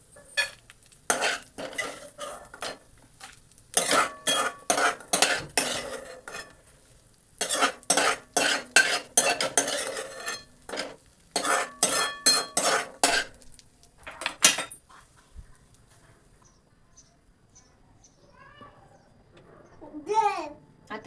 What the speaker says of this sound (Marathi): आणि एका प्लेट मध्ये काढून घेणार आहे